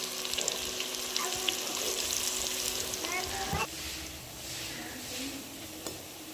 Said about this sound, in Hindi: चलें जी अब करते हैं हम अपने पकोड़े फ्राई।